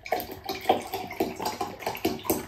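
Water poured into a glass of pineapple juice, a close splashing pour that comes in rhythmic glugging bursts about twice a second, moderately loud with no talking.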